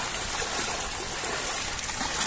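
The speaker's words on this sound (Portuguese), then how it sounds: "Aqui tá um rio. Essa avenida aqui é um rio." Floodwater from heavy rain pouring along a flooded avenue in Piedade, Jaboatão, Brazil, a continuous close rushing and hissing wash with no pauses.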